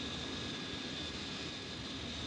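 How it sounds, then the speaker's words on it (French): A vintage propeller airplane flown over the Andes drones with a steady, continuous engine roar, unchanging and fairly loud throughout, with no voices present. "Vous verrez l'avion même de Guillaumet, piloté par Guillaumet, filmé par le cinéaste Bru lors d'une traversée des Andes"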